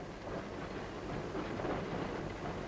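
A train rides along the rails in a dense, continuous rumble with a faint rhythmic clatter, steady and moderately quiet from start to finish.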